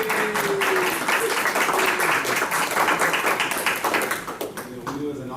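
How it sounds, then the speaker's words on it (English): A crowd at an evening gathering during a political season claps steadily through the whole stretch, with voices mixed in over the applause. "let's give a round of applause for everybody"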